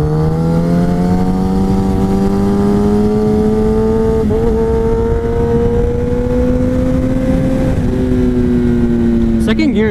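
Kawasaki ZX10R motorcycle cruising in second gear, a loud close engine whine rising slowly in pitch over several seconds with small throttle dips and wind noise, no talking.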